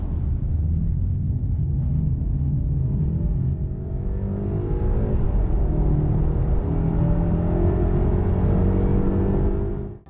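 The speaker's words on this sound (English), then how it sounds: "let's do a 30 to 70 sprint and see what this car can muster" A new BMW 520i, heard from inside the cabin, pulls hard from 30 to 70 mph, its engine note rising in pitch through the gears as a steady rumble and road noise build, then cut off abruptly.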